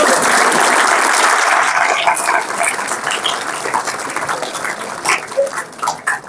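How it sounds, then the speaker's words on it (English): An audience of medical students applauds in a lecture hall, thick clapping from many hands that thins into scattered claps over several seconds, with a brief voice near the end. "Wait, you should clap now."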